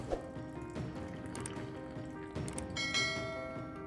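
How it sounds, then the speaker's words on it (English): Hot milk streams into a mug of strong Ugandan coffee and cocoa powder, a continuous close gurgling pour lasting several seconds with a slight rise near the end. "Add your cocoa powder and your hot milk."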